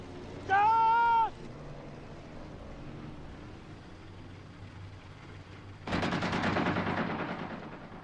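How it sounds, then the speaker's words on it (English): Warning gunfire in a desert war film: after a brief shouted voice and a quiet stretch, a loud, rapid burst of shots rattles out near the end and keeps going to the close. "Maybe warning shots, sir."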